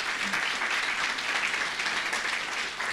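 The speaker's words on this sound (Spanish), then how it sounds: "Vamos a darles fuertes aplausos, por favor, a los hermanos que en esta oportunidad nos están visitando." Enthusiastic applause from a church congregation welcoming visiting members during a Sunday service, many hands clapping in a dense, sustained burst that holds steady for several seconds without talk.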